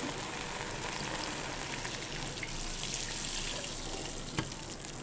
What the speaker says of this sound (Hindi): अब मैं इसके अंदर 1 लीटर पानी और डाल दूंगी